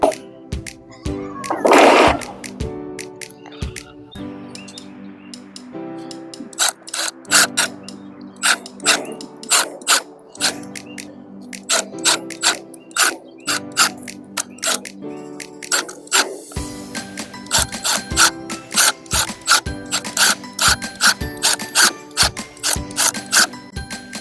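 A power driver sinks screws into the wooden frame of a chicken tractor as a top piece is fastened on, heard as repeated short whirring, ratcheting bursts up close with brief pauses between them.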